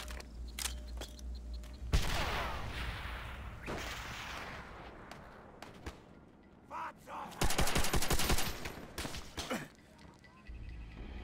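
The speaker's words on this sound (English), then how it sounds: "Enemy artillery!" Bursts of gunfire and heavy artillery blasts from a Call of Duty: World at War match, loud and irregular, with clusters of rapid shots and booming impacts separated by quieter gaps.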